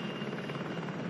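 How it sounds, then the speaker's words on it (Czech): A Slovak Black Hawk helicopter helping fight a fire near Hřensko gives a steady, dense rotor and engine roar that stays loud and even throughout, with no voices. "Vrtulník ze Slovenska, Black Hawk"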